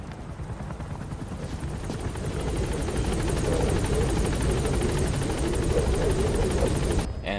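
A helicopter in the video game Metal Gear Solid V drones steadily with a loud continuous rotor thrum that swells slightly, then cuts off abruptly near the end.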